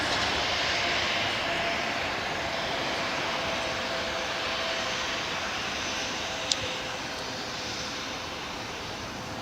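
A Bombardier Global Express business jet takes off at LAX, its engines producing a steady, broad roar that holds at moderate distance for several seconds with no voices over it.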